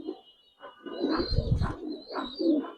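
Pigeon cooing from a loft of healthy, vaccinated Budapest high flyer pigeons: soft, low, rolling coos repeating in short bursts across a couple of seconds, fairly close, with faint chirps and no voices.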